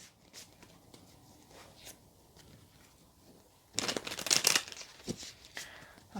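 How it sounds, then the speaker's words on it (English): Tarot cards being shuffled, quiet soft riffling at first, then a louder burst of crisp shuffling midway that settles into lighter handling. "let's give your cards a shuffle quickly"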